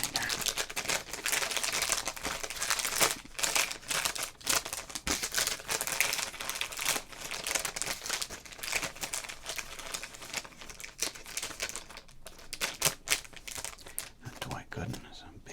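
Crinkling foil wrapper torn open on a pack of 1986 Donruss large All-Star baseball cards, with continuous close crumpling, tearing and card shuffling and a voice talking intermittently over it.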